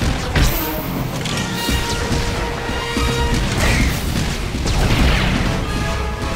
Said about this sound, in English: The Mercenary fires off a few Heatseeker missiles